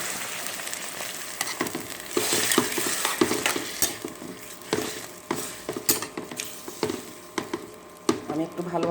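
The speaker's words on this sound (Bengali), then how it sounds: "আমি একটু ভালোভাবে নেড়ে চেড়ে দিলাম শাকটা" Boiled lapa greens fry in oil with garlic and chillies as a utensil stirs them in a pan, giving a steady sizzle broken by repeated scraping and clattering strokes, close and fairly loud, with no talk.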